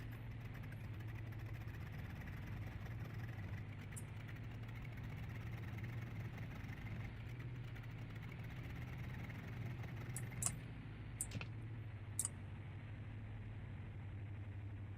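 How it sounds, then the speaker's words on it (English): Aeroworx C-47 piston engines in the X-Plane 11 flight simulator, just started and running with a steady, low, continuous drone, with a few faint clicks late on. "Looks like we got a good engine start."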